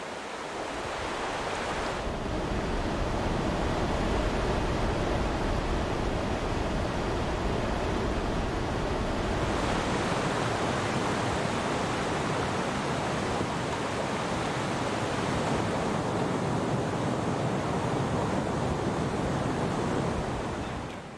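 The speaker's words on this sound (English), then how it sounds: "But the fascinating elemental force of the waterfalls banishes my problems." Waterfalls roar in an Australian rainforest as a steady, dense rush of falling water, loud and close, holding unbroken for about twenty seconds with no voices.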